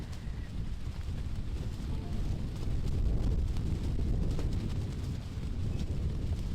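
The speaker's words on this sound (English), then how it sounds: "Oh, you can hear the wind." Wind gusting across an open disc golf course, a steady broadband rushing roar that swells louder in the middle and buffets the microphone, with no talking.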